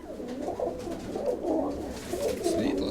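A female pigeon coos softly in low, rolling murmurs that repeat over a couple of seconds against quiet background noise.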